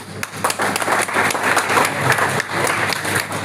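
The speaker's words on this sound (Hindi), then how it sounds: "बहुत बढ़िया, तालियां" An audience breaks into applause at a talk on constitutional reservation rights, a loud, close burst of many hands clapping with a few sharper individual claps standing out, lasting the full few seconds.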